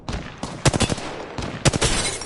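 Automatic weapon fire in the shooter game Apex Legends: loud, close bursts of rapid shots, with two sharper volleys standing out over a dense, crackling background of continuous gunfire.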